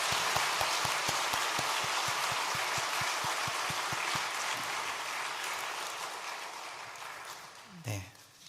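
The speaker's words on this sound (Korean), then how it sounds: "여러분들 박수로 환영해 주시면 감사하겠습니다." Congregation applauding during a Korean Methodist church baptism service, dense clapping that fades gradually over several seconds before a brief bump of noise at the close.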